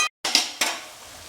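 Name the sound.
frying and stirring masala in a pan for chicken biryani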